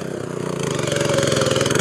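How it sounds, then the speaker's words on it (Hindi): A 7.75 hp petrol engine drives a 7-foot rotavator through hard soil, running with a loud, steady, pulsing drone that builds slightly, with no voices. "अब एक आदमी इस पर बैठ कर दिखाओगा कि इंजन दबेगा कि नहीं दबेगा चला कर दिखाओ"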